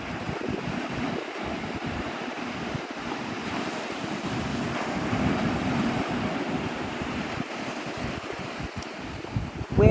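Ocean surf rolls onto Navarre Beach, Florida, near the Air Force Base stretch at sunrise, a steady, continuous wash of breaking waves with gusty wind buffeting the microphone throughout.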